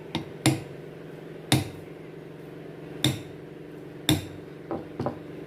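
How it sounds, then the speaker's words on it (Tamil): Hammer striking a punch to mark the steel shaft of a ceiling fan that runs but won't spin, several sharp metallic taps spaced unevenly, some single and some in quick pairs, with brief ringing between. "இப்போ பஞ்ச் பண்ண போகிறோம்"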